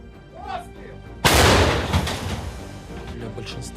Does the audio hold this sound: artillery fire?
yes